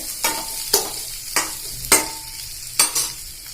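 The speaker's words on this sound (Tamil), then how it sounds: "அது ஆகிற வரைக்கும் நல்லா ஃப்ரை பண்ணிடுங்க நமக்கு" Onions sizzle steadily in a hot pan for idli upma while a utensil scrapes through them in regular stirring strokes, close and clear.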